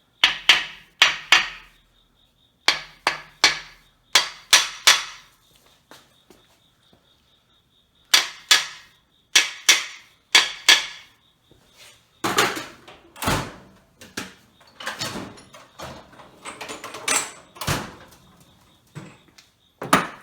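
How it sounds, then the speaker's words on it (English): Brass hammer tapping a crankshaft main bearing cap on an engine block, in crisp clusters of three to five sharp metallic knocks separated by pauses, then a denser run of taps, close and loud with no talking. "the next thing I like to do is take my brass hammer"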